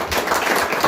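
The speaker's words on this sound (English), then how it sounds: "I'd like to just give them a round of applause again." Audience round of applause for school board seat candidates at a debate, a brief burst of steady, moderately loud clapping from a room of people.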